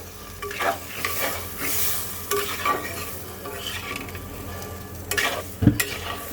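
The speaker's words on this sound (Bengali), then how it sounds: "মশলাটাকে আরও একটু সুন্দর করে কষানোর জন্য এইবার মিক্স করে দেবো" Spiced masala for a potato and soya chunk curry being stirred in a hot pan, with repeated spoon scrapes over a steady close sizzle and a few louder knocks against the pan.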